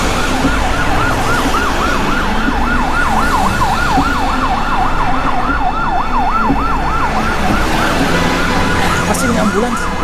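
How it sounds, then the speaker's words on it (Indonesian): An ambulance siren wails in a rapid, regular up-and-down sweep for most of the stretch, loud and close over road traffic noise, fading toward the end. "Pasti ini ambulans."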